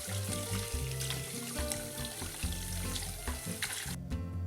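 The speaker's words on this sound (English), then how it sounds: "remove the pork, and wash off any remaining scum." Tap water runs into a sink while boiled pork is rinsed by hand to clear away scum, a steady splashing stream with irregular clunks and shifts in flow throughout.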